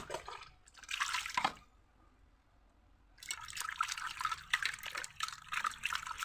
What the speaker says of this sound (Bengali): এবার আমি মাছটাকে ধুয়ে নিচ্ছি।